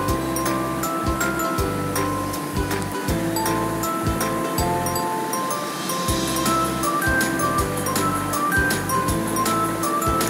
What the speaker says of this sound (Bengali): আমি প্রথমে 250 বিউলির ডাল ভিজিয়ে নিয়েছিলাম, সেটা এবার বেটে নেব।